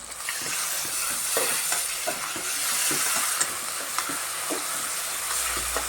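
Ginger garlic paste is stirred constantly in a hot pan, a soft sizzle and frying hiss running underneath repeated scraping and tapping of the spoon against the pan, close and without talk.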